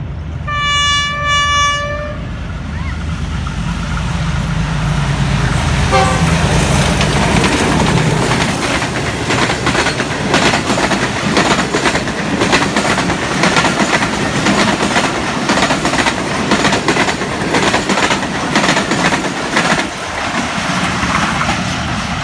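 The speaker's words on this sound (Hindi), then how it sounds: "काफ़ी रफ्तार से गई है रहमान बाबा एक्सप्रेस।" The Rahman Baba Express rushes past at speed on a Pakistani rail line, its horn blaring in a sustained tone at first, followed by a loud continuous roar and rattle of passing coaches up close.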